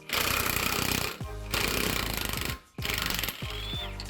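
An impact wrench hammers at big transmission bolts during a clutch install on a Lamborghini Gallardo, loud close rattling bursts of about a second each, three in a row with short pauses and whine between.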